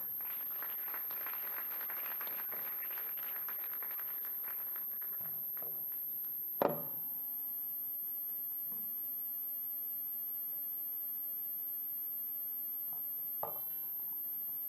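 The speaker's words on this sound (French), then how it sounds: "Est-ce que nous pouvons applaudir?" An audience applauds after a speech at a women's event in Oyo, a fairly soft wash of clapping that fades out after about five seconds, followed by a sharp knock and near silence.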